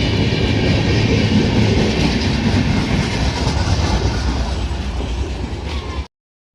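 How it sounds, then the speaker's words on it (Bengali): A train rumbles loudly past at close range, steady clattering wheels fading slightly toward the end. "চলে গেল ট্রেন"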